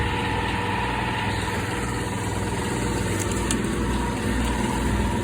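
A Kobalt 11.9 CFM twin-stage air compressor with an extra 51-gallon tank runs steadily, a loud continuous droning hum with a mechanical buzz that holds unchanged throughout.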